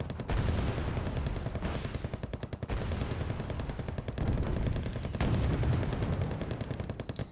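Continuous gunfire and shell impacts from the real-time strategy game Wargame: Red Dragon, a dense, loud barrage of overlapping shots and explosions running throughout without pauses.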